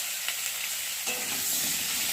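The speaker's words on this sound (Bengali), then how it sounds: "দেখো এদিকে আলুগুলো ভাজা হচ্ছে" Potato pieces frying in hot oil in a kadai, a steady close sizzle with a brief stir partway through, no voices.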